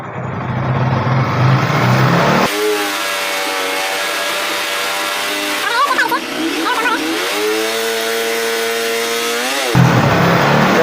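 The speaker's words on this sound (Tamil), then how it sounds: "கொஞ்சம் லைட்டாக ரேஸ் பண்ணி விடுவோம் வண்டியை" A Yamaha R15 V3 motorcycle engine is revved up from idle, rising to a held higher pitch, with a brief wavering blip midway, and then dropping back to idle. It sounds close and loud, with idle rumble before and after.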